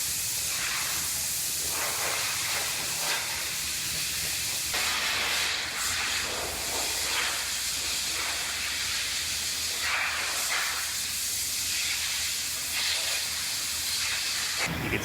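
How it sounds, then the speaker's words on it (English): Cavity wax sprayed in a 360-degree pattern inside a welded car body, a loud steady hiss running continuously with slight pulsing bursts. "So this is cavity wax, and it sprays in a 360-degree pattern"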